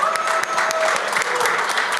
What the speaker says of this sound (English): A round of applause for these powerful women of Web3